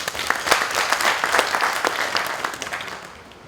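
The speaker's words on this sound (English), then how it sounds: "May we please give our guest lecturer another round of applause, please" An audience at an army public relations workshop gives a guest lecturer another round of applause, dense and lively clapping across the room that slowly thins and fades toward the end.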